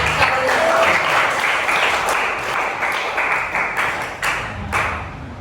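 Classroom applause from students, dense clapping that starts strong and gradually thins into scattered, uneven claps toward the end, with faint voices in the room.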